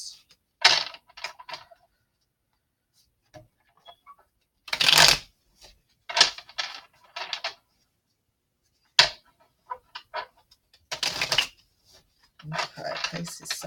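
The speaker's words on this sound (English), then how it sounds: "I'm going to shuffle the zombie cards, but right now I'm going to shuffle the Crystal Vision" Crystal Vision and zombie tarot cards shuffled by hand in several separate bursts of riffling and sliding, close and crisp, with quiet pauses between each round and no talking.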